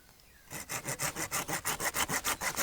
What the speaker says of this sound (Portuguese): Aqui como o galho já tá bem grosso, a gente usa o serrote mesmo.